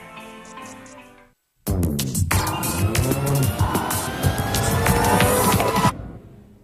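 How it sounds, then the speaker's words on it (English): A van's engine starts up on a car assembly line and keeps running for testing, a loud steady mechanical rumble with clattering factory noise over it, coming after a quieter stretch and a short silence. "Workers start up the ignition and run the van through a series of tests"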